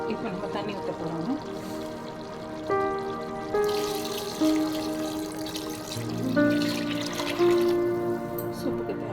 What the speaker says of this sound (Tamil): இப்போ நம்ம தண்ணி ஊற்ற போகிறோங்க.